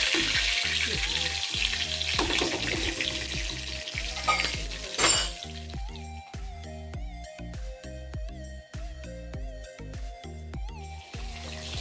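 Fish simmers and fries in a curry with taro, a loud dense sizzle for the first few seconds that then thins out under steady rhythmic background music.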